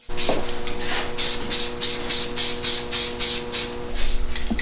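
Aerosol spray paint applied as a coat to engine parts for a turbocharged 6.0 LS engine build, heard as a run of loud, close rhythmic hissing bursts, about a dozen short sprays in quick succession.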